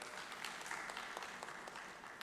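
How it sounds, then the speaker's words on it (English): Soft applause from a conference audience at a national conclave session, a brief wash of steady clapping heard from a distance. "I request a huge round of applause for the Purushottam Bhai."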